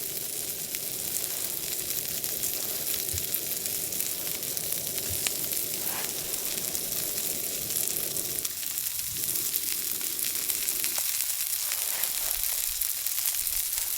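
Burgers sizzle steadily in a pan over a fire at a snowy winter campsite, a constant close crackling hiss with small pops and no talking.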